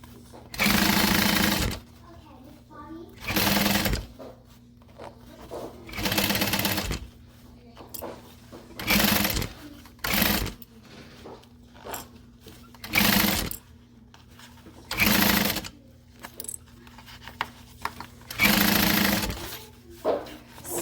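A sewing machine runs in repeated short bursts of rapid stitching along a half-inch seam, each burst a second or two long with brief pauses between, loud and close over a steady low hum.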